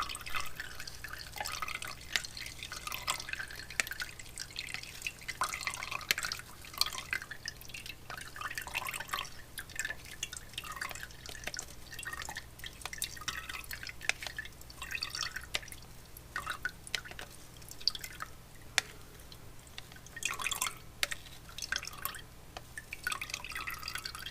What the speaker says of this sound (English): So just forcing it through the strainer.